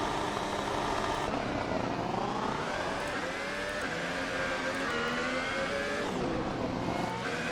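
Race cars in the Assetto Corsa racing game roar continuously, engines rising and falling through gear changes, loud and steady throughout with no pauses.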